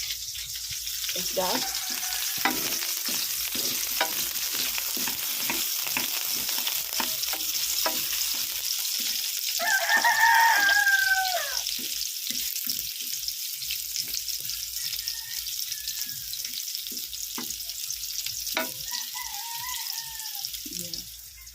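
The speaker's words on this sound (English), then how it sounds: "So I have to fry this first and let the color change to the brown." Chicken pieces fry for afritada in a pan, a steady sizzle with regular stirring and scraping strokes, while a person speaks briefly and chickens cluck nearby.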